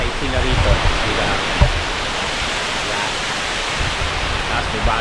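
Steady broadband rush of a stream flowing beside a campsite, continuous and fairly close, with a few brief voices and small knocks over it.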